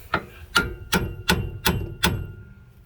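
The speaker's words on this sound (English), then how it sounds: "I'm going to use my light hammer real quick" A small hammer strikes metal six times at an even pace during car brake repair with a cracked ABS tone ring, sharp ringing taps close by with a faint background hum.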